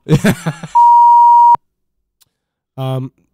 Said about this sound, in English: There's the beep again.